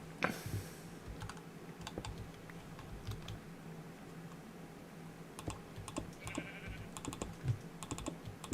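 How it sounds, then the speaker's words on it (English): Minecraft sheep bleat faintly a few times over steady computer keyboard typing and mouse clicks during gameplay. "Sheep alert. I repeat, there is a sheep alert aboard."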